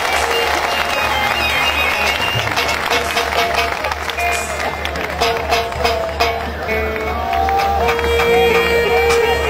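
Audience applause at a live concert, a dense steady wash of clapping from a large crowd that fills the whole stretch, with a voice talking over it.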